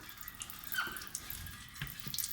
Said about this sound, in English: So you can hopefully see the oil starts flowing from there. I don't want to make mess, so I will let it drip.